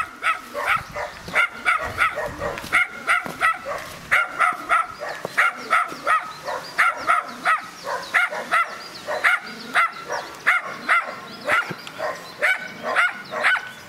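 Small dogs barking in quick repeated bursts, close and fairly loud, with short whimpering yips between the barks and a steady uneven rhythm throughout.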